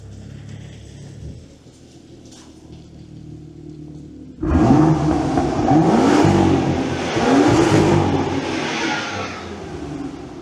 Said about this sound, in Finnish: Ai vitsi, vähänkö kuulostaa maukkaalta. Autohan on tosiaan tällainen BMW M2.